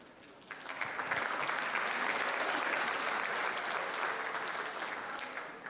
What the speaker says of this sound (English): I know we've clapped a lot tonight,